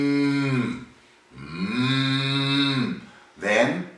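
A voice imitates cows mooing in long, drawn-out harmonic tones, two sustained moos and a shorter third, loud and close, made by an overtone singer.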